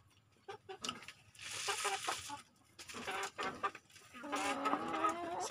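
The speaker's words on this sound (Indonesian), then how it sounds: "Ini sudah sekarang ayamnya tinggal 6 ekor teman-teman" A small free-range flock of chickens, one rooster and five hens, cluck and squawk in a garden, with bursts of loud clucking rising and falling close by, no talking.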